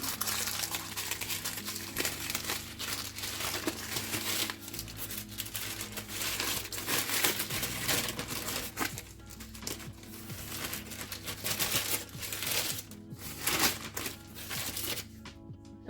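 A knife cuts through a firm, chilled log of puff pastry rolled with pistachio pesto, a soft, continuous crackling and crinkling close by, quiet under a low background hum.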